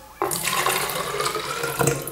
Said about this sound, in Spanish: ponemos el agua, en este caso pues voy a usar como un vaso de agua, más o menos 200 mililitros